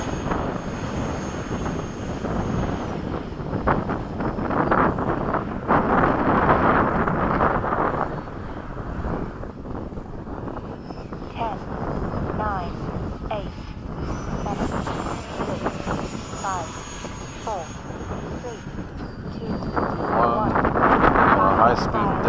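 A model F/A-18 EDF jet makes high-speed passes, a loud rushing ducted-fan whine rising and falling with wind buffeting the microphone, with a voice speaking over it.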